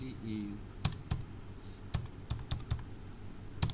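Keys clacking in short irregular bursts on a computer keyboard as a word is typed, close and crisp over a low background hum, with brief traces of speech.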